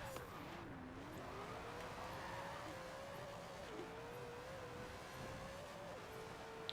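An 1,805-horsepower car accelerates in the racing video game Forza Horizon 4. The engine tone climbs in a steady pitch with brief dips at each gear shift, droning continuously against a constant game background with no talk.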